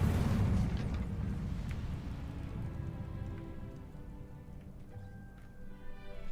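Incendio fire spell in the video game Hogwarts Legacy, played at 4K ultra settings: a crackling, hissing burst of flame that starts strong and fades into a faint sizzle, with a small flare near the end, quiet overall and without talk.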